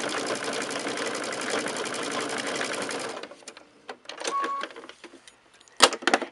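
A sewing machine stitches a quilted, lined cosmetic clutch bag in a steady fast whirring run for about three seconds, then stops, leaving scattered faint clicks and handling noises.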